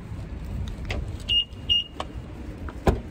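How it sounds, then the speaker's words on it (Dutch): A parked car is opened, giving a few sharp clicks and clunks from the locks and door plus two short electronic chirps from the remote, all close by over quiet background noise. "ik ga even de auto openmaken"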